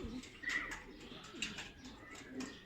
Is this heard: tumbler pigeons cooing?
yes